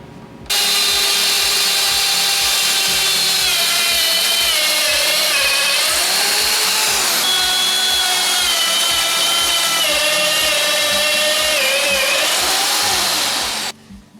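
A step drill bit grinds steadily through metal with a high, shrill whine whose pitch wavers and bends, running continuously for over ten seconds with rhythmic low thumps beneath.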